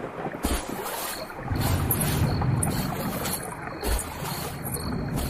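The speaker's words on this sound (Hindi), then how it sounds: "विराट वापस से नदी पार करने लग जाता है।" A man wades across a river, giving steady, loud sloshing and splashing close by, with rushing water and wind noise underneath and no talking.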